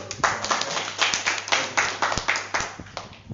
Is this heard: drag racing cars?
no